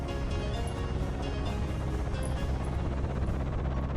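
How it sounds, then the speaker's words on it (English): Constant low plane engine drone from the video game Umineko, a steady humming rumble with layered harmonics, unbroken and moderately loud, no talk. "Getting that constant plane noise."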